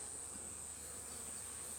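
Honeybees at a newly stocked beehive make a faint, steady buzzing drone with no breaks. A sharp, constant high whine sits over the quiet background.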